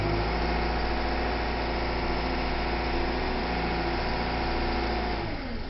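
A cold John Deere 310G backhoe engine idles steadily at close range while the machine rolls slowly in freezing weather, a continuous rumbling drone with slight revving toward the end and no talk.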